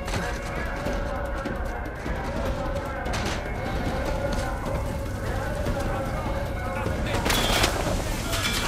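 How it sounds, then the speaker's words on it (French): Gunfire in the Uncharted 4 video game, a dense, steady wash of shots and clatter sitting under continuous busy game noise, with a brighter burst near the end and no clear single reports standing out. "ça tire de partout"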